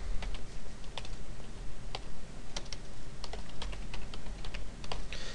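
Fingers type JavaScript code on a computer keyboard, a quiet, close run of irregular key clicks with short pauses, soft and steady with no talking.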